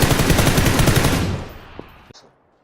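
Rapid automatic gunfire in PUBG Battlegrounds, a loud close burst that ends after a second or so, leaving a faint decaying tail and a couple of small clicks.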